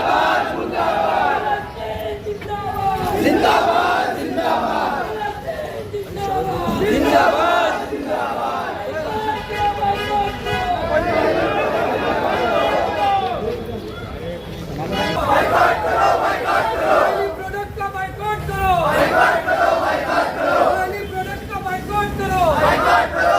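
A large crowd at a street rally against Israel in Mumbra, Mumbai, chants and shouts slogans in loud repeated bursts, with voices layered over a continuous outdoor babble.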